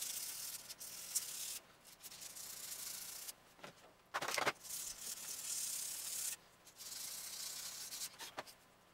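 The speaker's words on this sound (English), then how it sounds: "Now we're going to want to sand inside of this crack here and make sure that it gets a good adhesive bond to the body" Hand sanding with coarse 80 grit sandpaper inside a crack on a SnapBow body, steady raspy scratching strokes in bursts with short pauses, close and fairly loud, no talking.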